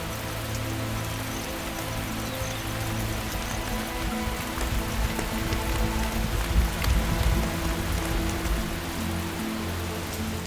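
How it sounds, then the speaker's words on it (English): Steady rain from an evening thunderstorm falls over the Masai Mara grasslands, a dense continuous hiss and patter that swells slightly midway, with no voices. "As is so often the case, thunderstorms begin to develop in the evening."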